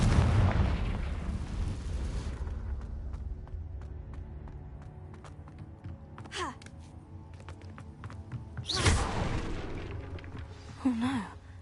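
A Confringo fire blast spell from Hogwarts Legacy erupts as a loud, booming burst at the start, followed by lingering game ambience with scattered clicks, a second whooshing impact and faint creature squeals.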